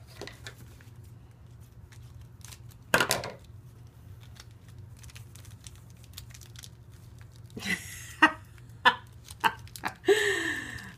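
Plastic crinkles and rustles in a few short bursts, close up, between quiet stretches.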